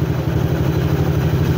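A Yamaha Aerox v2 scooter with a 220cc engine and an enlarged racing exhaust elbow runs close by at a steady, throbbing idle, without a break and with no voices.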